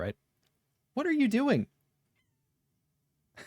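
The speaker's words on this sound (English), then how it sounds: "but she's meowing at me" A cat meows in a single drawn-out, wavering cry close by, with a short stretch of silence around it and brief bits of a person talking at the start and end.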